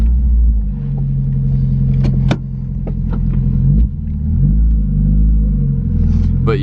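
A Mazda Miata with a large coolant leak rolls into a driveway, its engine giving a steady, close low rumble with slight swells in pitch as it eases along, with no talking.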